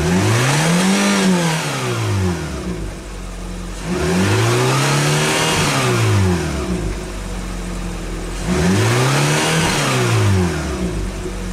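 A Peugeot engine, with 103,365 km on it and no fault codes, is revved during an exhaust check, three sweeping rises and falls repeating roughly every four seconds, loud and close between returns to idle.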